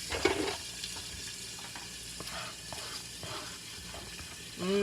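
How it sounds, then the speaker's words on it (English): Chopped onion, about a whole onion, frying in a pan to soften: a steady close sizzle with light crackles and occasional stirring scrapes, louder bursts at the start and end, no talk. "We're going to put our onions in first, and those are going to get softened."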